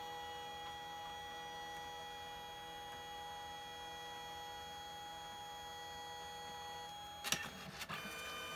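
A Canon Selphy or Kodak Mini photo printer prints colour layers with a steady, faint mechanical hum and whirr, close and continuous, ending in a few brief clicks and clacks near the end.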